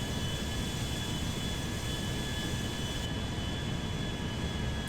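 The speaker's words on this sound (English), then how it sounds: "It's such a difficult airplane to fly." A Concorde jet flies in GTA 5 as a mod, making a steady, loud, broadband engine roar with a constant high whine and no talking.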